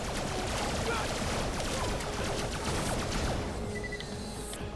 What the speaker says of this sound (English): Oh yeah, I can't stop firing.